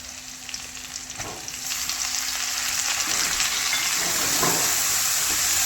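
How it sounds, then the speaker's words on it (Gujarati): Onions dropped into hot oil with frying green chillies for a paneer masala curry, the sizzle swelling into a loud, steady hiss and crackle after the addition, close up, with no talking. "હવે એમાં આપણે ડુંગળી નાખી દઈશું।"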